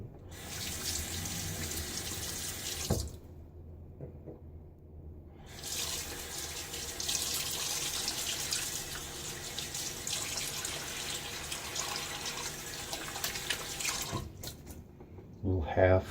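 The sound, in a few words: tap water running, rinsing while shaving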